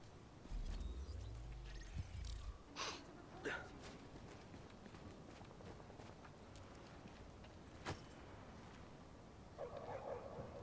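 Dogs bark in The Division video game, a few sharp yaps and woofs scattered over a low, quiet game ambience with faint footsteps; a voice is heard briefly.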